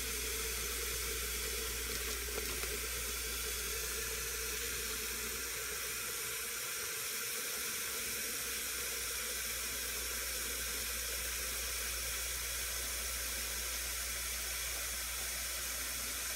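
Water from a pipe trickles steadily into a one-gallon jug as part of a self-watering bucket system for cucumbers, a constant faint hiss and splash running unbroken throughout with no talk.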